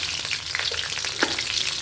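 Slit green chilies sizzle and crackle in hot mustard oil, with a dense steady hiss and scattered pops, close by and with no voices.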